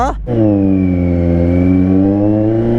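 A Kawasaki Z900 SE motorcycle engine revs up loud and close while accelerating to overtake, its pitch climbing steadily, with a brief rumble at the start.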